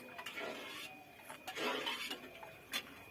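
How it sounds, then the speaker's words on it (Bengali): Rice being stirred in a cooking pot with bay leaf, cloves, cinnamon and cardamom, a quiet scraping and scratching of a spoon against the pot with a few soft clinks. "এবার একটু নাড়িয়ে দেবো"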